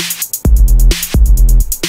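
Bassy square-wave synth bass with its filter cutoff lowered, thumping low notes struck twice in a short rhythmic pattern, loud and close, with a bright hissing layer pulsing above, no talking.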